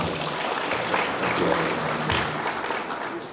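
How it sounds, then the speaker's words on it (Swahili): A crowd of participants at a government meeting with truck drivers in Tanzania claps together in sustained applause, loud and steady throughout. "Wapigeni makofi wote kwa pamoja."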